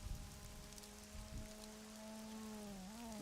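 Heavy rain falls steadily in a racing sim game during a race in Portugal, a dense constant hiss under a low hum and rising engine tones.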